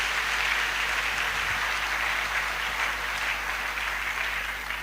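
A church congregation applauding together, a dense, even wash of many hands clapping that holds steady and fills the room before easing slightly at the end.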